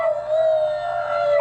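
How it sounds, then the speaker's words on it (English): One long, steady howl rings out loud and close in a scene from the film Aliens vs. Predator: Requiem, holding a single wailing pitch from start to end with no voices over it. "they're howling at the moon."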